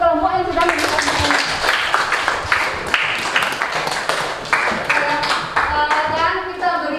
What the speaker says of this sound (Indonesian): Sekarang kita berikan apel tepuk tangan untuk semua kelompok yang sudah mendapatkan.